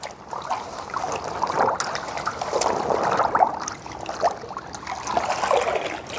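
Water sloshes and trickles steadily as a pure cotton saree is dipped and soaked in a tub, a continuous close splashing with small swells, no talk over it.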